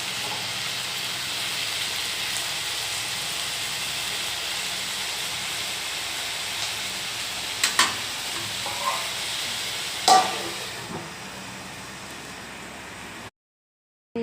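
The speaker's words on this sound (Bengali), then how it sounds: "এদিকে আলু ভাজা বসিয়ে দিয়েছি।" Cut potatoes fry in a pan with a continuous, steady sizzle, punctuated by a few short clinks and stirring knocks toward the end before the sound cuts off.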